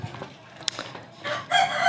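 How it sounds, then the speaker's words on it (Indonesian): A rooster crows loudly near the end, after a short stretch of scattered clucking and small bumps, the crow sounding close and clear. "Suara ayam bro"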